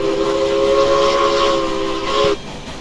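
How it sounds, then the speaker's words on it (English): A steam locomotive whistle sounds on the Silver City Railroad in the Railroads Online video game: a loud, steady chime-like blast of about two seconds that cuts off sharply, leaving the low rumble of the train. "I guess we should blow the whistle."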